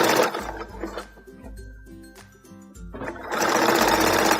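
A sewing machine runs a zigzag stitch along a tulle skirt, starting with a loud close whir that slows to a quieter stretch midway, then races again at full speed.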